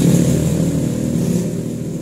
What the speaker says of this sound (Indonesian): Coba mas dihidupkan motornya mas.